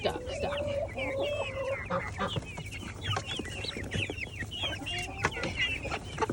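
Several chickens cluck and squawk excitedly in a busy coop while one hen is stuck and the others crowd around her. The calls are close, continuous and overlapping, with no talk.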